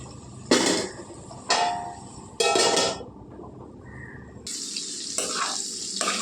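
Potatoes with fenugreek leaves fry in a pan over medium heat, with a continuous sizzle broken by several sharp clanks and scrapes of stirring, and a brighter hiss taking over near the end.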